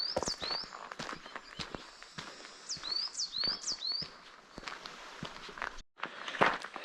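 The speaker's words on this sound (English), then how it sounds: "There's the sound of so many birds in this forest." Birds chirp and whistle in a Scottish forest at the Falls of Balgy in Torridon, with short high calls mixed with crunching footsteps and rustling nearby at moderate volume.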